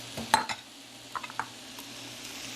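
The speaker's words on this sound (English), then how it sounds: "I'm going to stir this around." Broccoli, about ten ounces, sizzles in a pan while being stirred, giving a low steady hiss with a few close scraping and clattering knocks of the utensil early on, and no talk.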